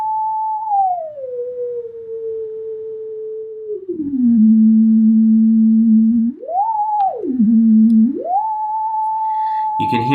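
A pure synthesized tone glides down and up in pitch as a sensor is tilted and flipped, dropping from a high note to lower steps and sweeping back up, loud and continuous, with a brief burst of noise at the end.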